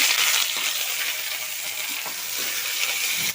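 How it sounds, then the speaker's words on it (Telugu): Green chillies frying dry in a hot pan for a gooseberry pickle, a steady bright sizzle with faint crackles and occasional stirring scrapes, close and continuous with no voices. "ఈ పచ్చిమిరపకాయలు మనం కొంచెం పచ్చివాసన పోయేదాకా తడి లేకుండా ఇలా వేయించుకుందా"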